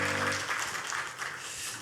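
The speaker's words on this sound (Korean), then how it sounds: "박수로 축하하겠습니다." Applause from a church congregation fills the clip, a steady wash of many hands clapping at moderate distance, with no talking over it.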